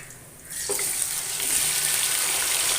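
Half a kilo of mutton browning in a karahi with ginger-garlic paste, a bright steady sizzle that jumps up after a soft start and stays loud and close for the rest, with no voices.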